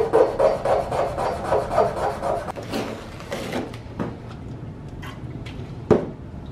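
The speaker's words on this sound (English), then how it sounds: "We just want to attack that resin that's around it and kind of scuff that up." Sanding and scuffing hardened resin on cracked carbon fiber, a close, steady run of gritty rubbing strokes that thin into scattered scrapes and taps.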